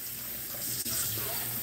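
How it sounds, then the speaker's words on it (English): A kitchen water tap runs steadily as hands are rinsed under it, a constant close splashing rush that carries on for the whole short moment with one brief dip, with no talking. "let me rinse my hands off"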